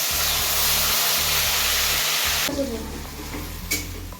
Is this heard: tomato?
yes